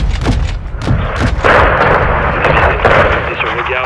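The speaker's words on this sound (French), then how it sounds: "Canon 25 mm. J'attaque." Rapid 25 mm cannon fire in the video game Modern Warfare 2, a run of loud, punchy blasts with booming tails that blur into a sustained roar, mixed with voices talking over the action.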